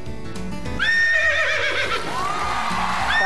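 A person imitates a horse neighing, a loud rising-and-falling whinny voiced alone, close up, with a second shorter whinny starting at the end.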